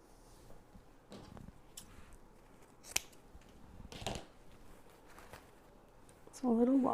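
Scissors trim a moss wreath for a patriotic Memorial Day decoration, giving a few faint, sharp snips spaced apart in a quiet room, with a brief rustle near the end.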